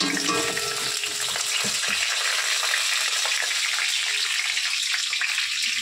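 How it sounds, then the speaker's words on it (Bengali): Nigella seeds and whole dried chillies hit hot oil and spit with a loud, close sizzle that bursts sharply at first, then settles into a steady, bright hiss with no talking. "আমি এবারে কালো জিরে আর গোটা লঙ্কা ফোড়নে দিয়ে দেবো"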